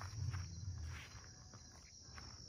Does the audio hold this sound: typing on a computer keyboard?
no